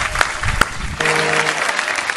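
A crowd at a bhajan program applauds a young devotional singer with steady, close, dense clapping that lasts the whole short stretch, with a brief sustained tone entering partway through.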